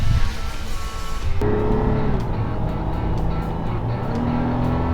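A rebuilt 2016 Toyota 4Runner's engine runs on its first test drive, a steady loud drone with some road and wind noise and a few brief clicks, with no talking.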